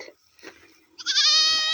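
A goat bleats briefly, then gives a louder, drawn-out bleat nearby.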